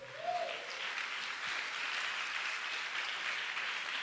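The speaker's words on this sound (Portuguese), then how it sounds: "Quem quer dar um aplauso ao Senhor aí?" Applause fills a church service, a steady, fairly quiet wash of many hands clapping from across the room, with a brief voice-like tone at the very start.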